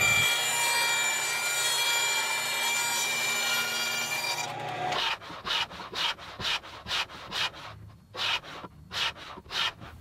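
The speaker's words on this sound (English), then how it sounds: "So I'm going to start my taper from the outside edge and taper in." Acoustic guitar plates are tapered by hand from the outside edge inward, a steady rasping hum giving way to a run of rhythmic, close wooden strokes.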